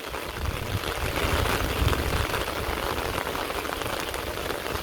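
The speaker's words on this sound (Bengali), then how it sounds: "বৃষ্টি নেমে গেছে" Steady rain in a Bangladeshi village with boats and harvested paddy fields nearby, a dense, even wash of falling drops filling the whole stretch with no voices.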